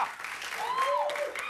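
Studio audience applause at a late-night talk show: a dense, steady wash of clapping that holds loud for the whole moment, with a whistle or whoop rising and falling above it.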